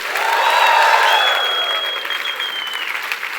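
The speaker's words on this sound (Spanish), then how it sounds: "denle un aplauso con fuerza al Señor." A church congregation applauds loudly, a dense sustained clapping crowd that swells and then eases slightly, with faint voices and cheering mixed in.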